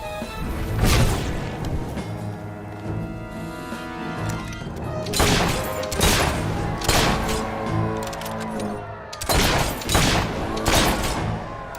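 Gunfire bursts in Fable 3 come in several loud broadband volleys, with a strong crack near the start and more around the six-, nine- and ten-second marks, over a constant musical and ambient game bed.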